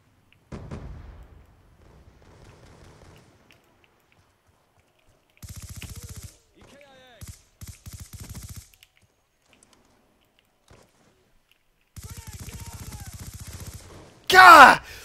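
Gunfire from a sniper rifle and other weapons in Black Ops 2. Sustained sputtering bursts come in a few separate stretches with quiet gaps between them, and a sharp loud blast lands near the end.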